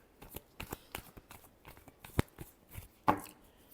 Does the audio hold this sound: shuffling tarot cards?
yes